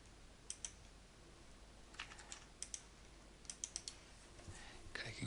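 Clicking on a computer while working through a drop-down menu of drawing layers, sharp soft clicks arriving singly and in quick clusters against a quiet room, with no speech.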